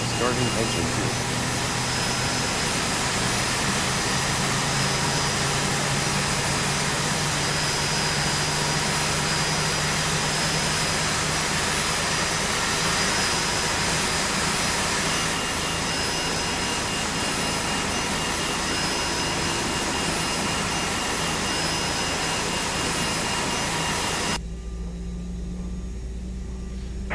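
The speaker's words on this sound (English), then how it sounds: "Starting engine 2." The Airbus A320's engine 2 spools up in the X-Plane 11 flight simulator, a loud, steady jet roar and whine that holds for nearly the whole stretch before dropping off abruptly near the end.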